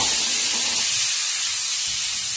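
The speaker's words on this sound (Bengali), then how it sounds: "মনে হইতেছে ডিম বাজতেছ দূরের থেকে" Frying in hot oil while cooking chicken biryani: a steady, loud, broad hiss and sizzle lasting throughout with no pause.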